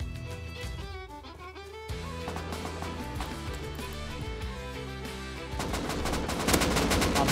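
AK rifle fire in the video game Rust, with rapid bursts and single cracks over a busy background of game noise, growing louder and denser toward the end.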